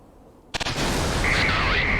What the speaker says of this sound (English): And it fires a missile.